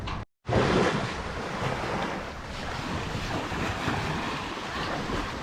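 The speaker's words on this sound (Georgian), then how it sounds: "მარიამ, როგორ მოგეწონა ზღვა?" Sea surf breaking on a beach in Halkidiki, a loud continuous roar of waves and wind buffeting the microphone, broken only by a brief dropout near the start.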